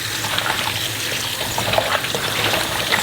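Green peppers being rinsed under running water, a loud close splashing stream with steady trickling and small bursts as the peppers are moved about.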